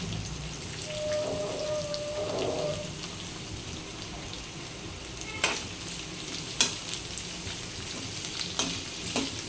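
Chopped onions sizzle in hot oil in a pan while being cooked for Bombay chutney, a steady crackling fry with a few sharper scraping stirs later on, no voices.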